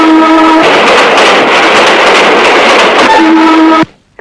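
A train rushes past with a sustained horn blast at the start and again near the end, loud rumbling wheels filling the space between before it cuts off abruptly.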